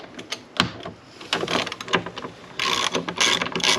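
A ratchet fitted with a 10mm socket works a bonnet bolt loose on an EP3 Honda Civic Type R, producing rapid close clicking bursts with pauses between strokes and a longer run of clicks near the end.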